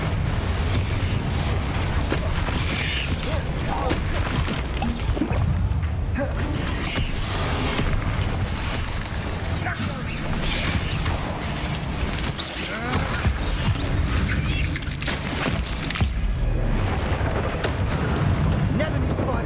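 Confringo fire spells explode in Hogwarts Legacy, with repeated booming blasts and rumbling impacts over game music and effects, and a voice speaking at times.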